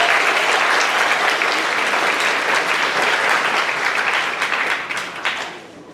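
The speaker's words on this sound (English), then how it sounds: "give our Hall of Fame committee, our students, and our staff a round of applause for all of their hard work this year" Loud, dense applause from a high school Hall of Fame induction ceremony audience, a continuous wash of many hands clapping that holds steady for several seconds before tapering off near the end.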